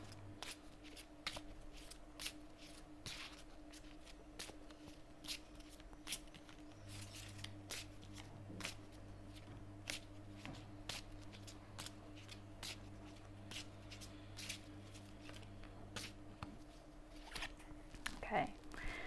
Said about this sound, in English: So I'm gonna shuffle the cards.